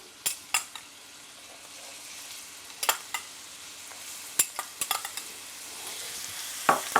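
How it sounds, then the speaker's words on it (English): Onions fry in hot oil over medium heat, a faint steady sizzle underneath scattered sharp clinks and scrapes of a utensil against the pan, with no voices. "the oil should be hot now, so if we just gently and carefully add the onions."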